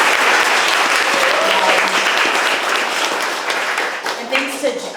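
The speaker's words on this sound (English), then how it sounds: "Let's give a round of applause to Marty." A round of applause from a poetry reading audience in Chicago, a dense, loud wash of clapping that gradually thins and fades as someone starts to speak near the end.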